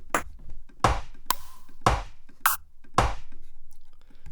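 Snare-like percussion sample auditioned for a techno drum track in Ableton: five or six short, sharp broadband hits with quick decay, spaced irregularly, close and fairly loud with no talking.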